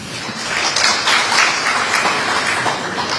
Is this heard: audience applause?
yes